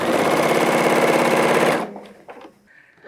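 Domestic sewing machine stitching a hem seam at 1.5 cm, a rapid, loud mechanical rattle running steadily for under two seconds before stopping abruptly, followed by faint handling clicks.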